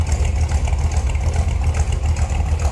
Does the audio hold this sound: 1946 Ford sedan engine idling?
yes